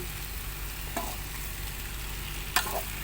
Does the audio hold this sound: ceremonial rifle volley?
no